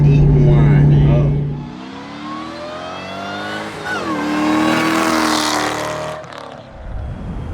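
An Eaton supercharger whines as a car accelerates hard, the rising mechanical whistle climbing over engine roar through several gears before it backs off, with voices in the car.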